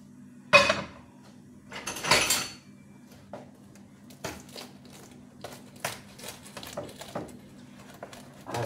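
Knife taps on a cutting board come in scattered, irregular chops, fairly close but light, with a faint steady hum underneath.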